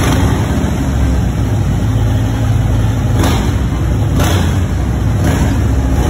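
A Harley-Davidson Softail motorcycle, a 2018 or later model, just after an oil change, with its engine running at a steady, loud idle close by for the whole stretch. The deep rumble holds even throughout.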